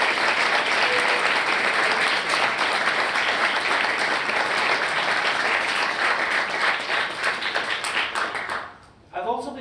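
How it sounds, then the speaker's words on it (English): Audience applause at an engineering capstone symposium for sponsoring companies, a steady dense clapping from a large crowd that fades out near the end. "give a big round of applause to the sponsoring companies for their very generous support"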